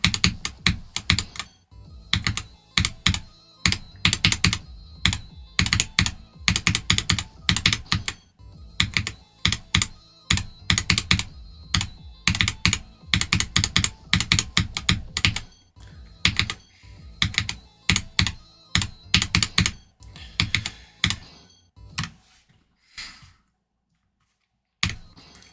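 Rapid typing on a new computer keyboard, close and crisp: bursts of quick key clacks separated by short pauses, tapering into sparse taps and a silent stretch near the end, with no talk.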